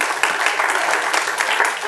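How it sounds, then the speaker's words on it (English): An audience gives a round of applause at a launch event, steady close clapping from many hands filling the short stretch without pause. "A round of applause,"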